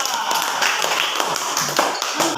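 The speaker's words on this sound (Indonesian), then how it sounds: "Berikan tepuk tangan untuk kelompok 2." Classroom applause for a student group, a dense patter of many hands clapping steadily for a couple of seconds, fairly close and continuous.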